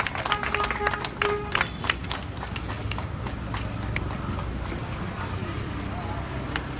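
An audience at a ward gathering applauds Sanjay, a steady dense clapping that holds throughout over a murmuring crowd, with some louder sharp claps near the start.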